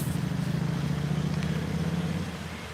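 Steady engine rumble of traffic nearby, a continuous low drone of vehicles passing without any voices.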